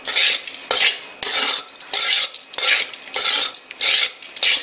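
Cooked jeera rice being stirred in a pot to mix in salt, with a spoon scraping through the grains in close, rhythmic strokes separated by short pauses. No one speaks.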